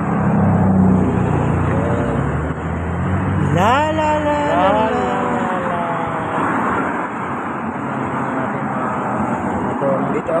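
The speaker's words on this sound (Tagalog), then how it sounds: "Ayan, traffic dito ngayon." Steady street traffic roar at a bus stop, with passing vehicles and a rising engine whine midway, loud and continuous under people talking nearby.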